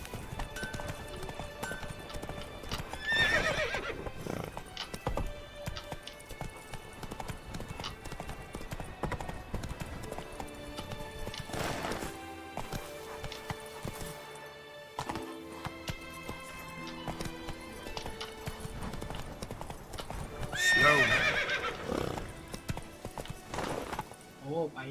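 Roach the horse in The Witcher 3 trots with a steady clip-clop of hooves and gives an occasional neigh, mixed with game music and sound effects at an even level.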